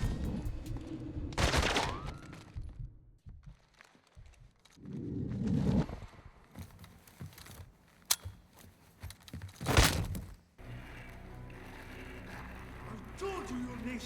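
Gunfire in the video game Modern Warfare: scattered loud shots and short bursts cut through a busy soundscape of game dialogue and mechanical clatter, with several sharp isolated cracks standing out near the end.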